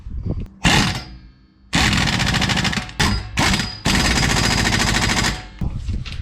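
A pneumatic impact gun rattles in loud bursts, tightening the wheel hub bolts on a 2013 Toyota Sienna. Several hammering runs of varying length are broken by short pauses, up close, with no talking.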